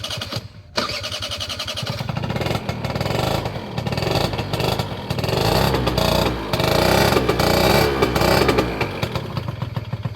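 A Peugeot Kisbee RS scooter engine starts with a quick crank and catches, then idles and revs up and down loudly and close by, with no talking.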